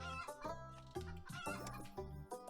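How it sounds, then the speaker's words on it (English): Chickens in the farming card video game Terracards, a quick series of rhythmic clucks and short squawks repeating about every half second, quiet and alone without speech. "let's get some more chickens on the field."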